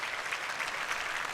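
Audience applause at CitizenCon 2024, a steady dense wash of clapping from a crowd, moderately distant and continuous throughout without gaps.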